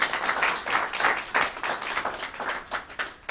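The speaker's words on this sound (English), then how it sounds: "please give him a round of applause" Audience applause at a 2021 conference, following the introduction of a deputy council leader; a steady mass of claps fills the room with uneven swells, moderately loud and close, with no talk over it.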